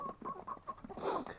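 A chicken clucks in a short series of close, bright clucks followed by a louder squawk, brief and alone.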